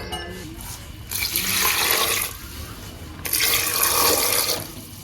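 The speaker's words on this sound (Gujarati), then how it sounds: "તો હાલો ફટાફટ છે ને પાણી નાખી દઈએ આપણે" Water gushes into a pressure cooker holding val tuvar beans in two pours, each a steady splashing rush lasting a second or two, with a short pause between them.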